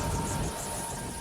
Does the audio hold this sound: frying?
no